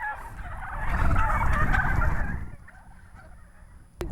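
A flock of turkeys on a turkey farm gobbles loudly and close, a dense chorus of rattling calls for a couple of seconds that fades out, then a sharp knock and a fresh burst at the end.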